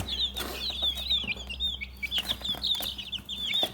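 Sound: three-week-old chicks clucking

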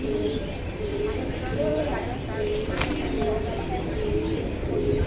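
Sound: pigeons cooing at a pigeon market

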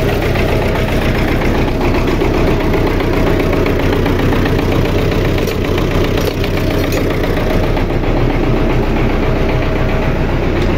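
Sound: MTZ 82.1 tractor engine idling in frost

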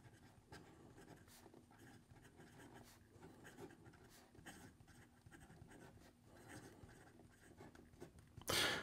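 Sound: fountain pen with Bach nib writing on paper

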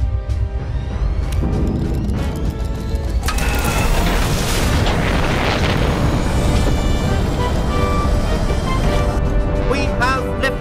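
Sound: rocket ignition and liftoff

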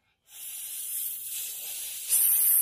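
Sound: voice imitating the hissing sound of the letter S

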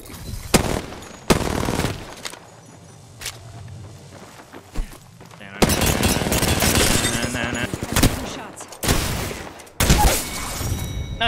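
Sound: gunfire in Apex Legends video game

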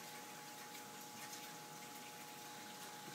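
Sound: hydrogen gas bubbles rising in water

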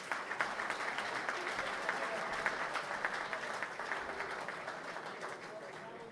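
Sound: audience applause for an accordion trio

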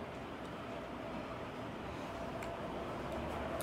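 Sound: noisy Jamaica Wind ceiling fan running at speed 3

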